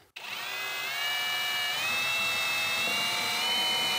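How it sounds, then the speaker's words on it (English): A power drill with a 5/8-inch bit whines steadily at high speed after a brief click, boring holes for toggle bolts to mount a microwave, its pitch holding nearly constant, close and loud. "First holes we're going to drill are for our toggle bolts using this 5/8 bit"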